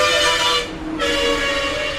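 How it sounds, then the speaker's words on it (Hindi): Vehicle horns blare along a busy highway, sounding as sustained tones that carry almost unbroken through the traffic noise, with a short dip partway through. "हॉर्न भी बहुत बजा रहा है"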